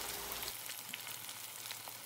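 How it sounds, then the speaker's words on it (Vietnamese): Chicken pieces frying in a hot pan of oil, a steady soft sizzle with light crackles throughout, fairly quiet and close. "Mình vớt nó ra ngoài rồi sau đó mình cho gà vô trong đây mình chiên"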